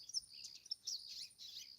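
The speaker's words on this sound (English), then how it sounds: "Hearing the birds sing" Birds sing outdoors in bright, high chirps and trilling tweets that overlap in a steady flowing chorus, soft and somewhat distant, with no talking.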